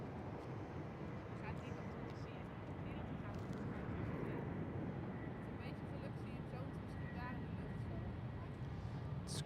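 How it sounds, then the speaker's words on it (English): A United Airlines Boeing 767 airliner passes at Schiphol, a steady broadband jet roar holding at constant loudness throughout, with faint voices underneath. "And there goes the 767. Of United Airlines."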